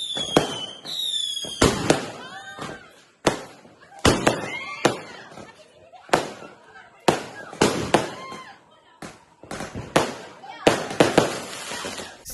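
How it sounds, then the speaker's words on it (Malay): Hari Raya Aidilfitri fireworks burst one after another in a rapid, irregular barrage, loud and close, with whistling launches and crackling pops between the booms. "tengok jiran-jiran bermain bunga api"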